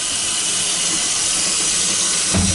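Hot water pours steadily from a kitchen sink tap in an apartment, a constant broadband hiss of running water that lasts the whole stretch, with a brief low thump near the end.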